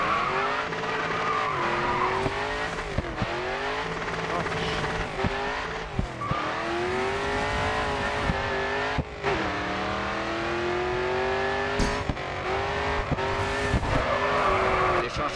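Race car in the video game Grid 2, engine roaring and downshifting while braking with repeated tire squeals and skids into a tight corner, loud and continuous under a voice giving driving instructions.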